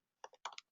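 Short bursts of typing on a computer keyboard, a few quick keystroke clusters close by in a quiet room, with no voices.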